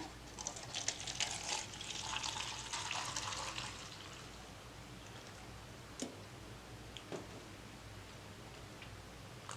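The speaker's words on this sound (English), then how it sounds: "Still gonna pour it in the cup." Orange juice poured into a cup in a home kitchen while making strawberry and banana crepes: a soft liquid splash for about four seconds, then near quiet with a couple of small clicks.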